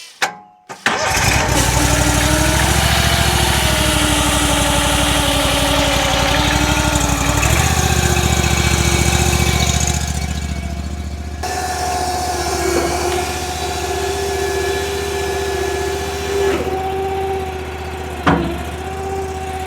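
A chainsaw engine is pulled and fires up after choke and throttle are set, then runs loud and steady close by, its pitch dropping as the revs settle partway through, with a brief blip near the end.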